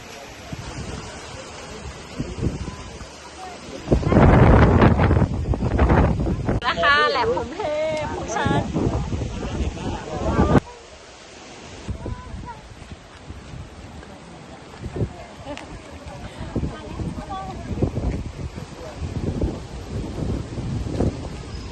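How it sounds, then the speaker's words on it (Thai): Strong wind at Laem Phromthep cape in Phuket buffets the microphone in loud roaring gusts, with someone talking through parts of it and a brief calmer stretch. "ลมแรงมากเลยนะคะวันนี้"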